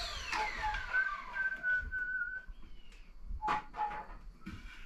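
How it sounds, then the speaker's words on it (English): A man whistles a short tune while building a rabbit hutch, with clear warbling notes sliding up and down, close by, broken by knocks and handling noises. "I whistle while I work all the time."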